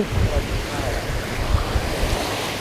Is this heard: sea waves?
yes